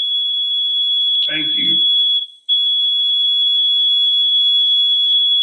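Smoke-detector-style alarm gives a continuous high, piercing electronic tone that drops out briefly near the middle and resumes, while a person speaks once over it.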